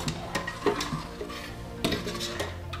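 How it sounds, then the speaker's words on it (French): A spoon stirs curry laksa broth enriched with coconut cream in a pot, giving close, loud clinks and scrapes against the metal in irregular bursts, with a soft simmer beneath. "Donc je mélange le tout et je laisse mijoter doucement."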